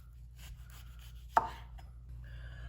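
A knife cuts a peeled orange on a cutting board, a single crisp chop standing out against quiet background hum, with faint softer contact sounds around it.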